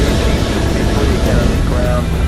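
Jet aircraft engines in Microsoft Flight Simulator, a loud, steady broadband roar and hum that holds evenly throughout with no pauses.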